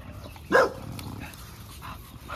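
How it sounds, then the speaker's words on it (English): One short, sharp dog bark rings out near the start, and only a soft background murmur follows. "Why y'all barking?"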